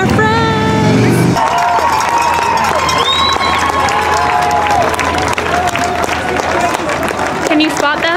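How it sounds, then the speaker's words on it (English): A roadside crowd at the Ottawa half marathon claps and cheers for passing runners, a loud, steady wash of applause and shouting with babbling voices mixed in throughout. "Hey, we're cheering on our friends!"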